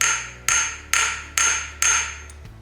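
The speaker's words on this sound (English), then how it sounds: "hit it with the same hammer" Five sharp, ringing metallic strikes of a small hammer on a steel train rail, evenly spaced about half a second apart, each decaying with a bright ring, close and loud with no voices.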